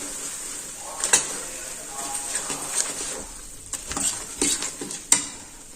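Mawa is stirred into a hot adadiya mixture in a pan, making a soft continuous sizzle broken by scraping spoon strokes and a few sharper knocks.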